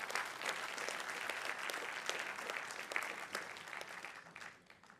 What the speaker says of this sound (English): Please give Adrian a wave and a round of applause for all he's given us.